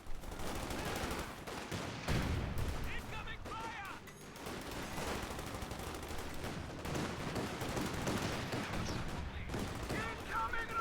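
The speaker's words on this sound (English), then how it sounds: "Heavy machine gun group are ready for action." Heavy machine gun fire in a strategy video game, rapid sustained bursts of shots mixed with other battle noise, fairly quiet and running under a commentator's talk.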